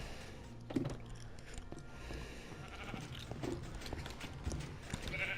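Blocky Minecraft sheep bleating inside a player-built contraption, two short nasal bleats a few seconds apart over a low murmur of in-game mechanisms and faint ambient noise.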